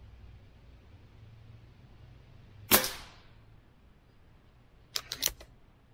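A single sharp shot from a Crosman Quest 1000x pellet air rifle, loud and close, followed a couple of seconds later by a few quick mechanical clicks.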